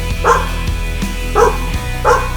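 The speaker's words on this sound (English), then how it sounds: "there goes the dog" A dog barks three times at an even pace, each bark sharp and fairly close, over a steady low hum.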